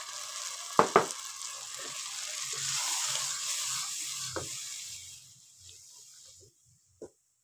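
Loud hissing sizzle swells as water is added to peas frying in a pan after a couple of clanks, then fades away to near silence with an occasional faint clink.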